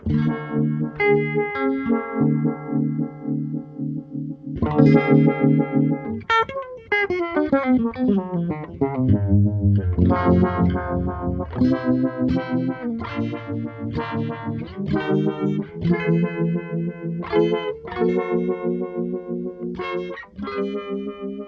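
An electric guitar plays chords and runs through a heavy, strongly pulsing modulation effect, the tone swirling and throbbing continuously.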